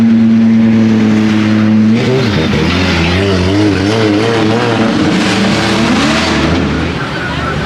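Formula Drift cars at a New Jersey pro competition, engines howling loud and close with rising and falling revs as they slide, under excited commentary and crowd noise.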